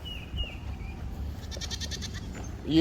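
Goats on a farm, with a single short bleat rising near the end above a low, steady background murmur.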